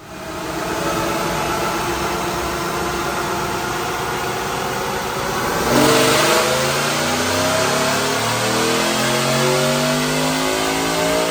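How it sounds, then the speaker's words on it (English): Supercharged 2024 Ford F150 with a 5.0 Coyote V8, Whipple Stage 2 supercharger and long-tube headers, pulling hard on a dyno: a loud, close engine roar that climbs steadily in pitch with a rising supercharger whine, alone without talk. "Check out this dyno pull."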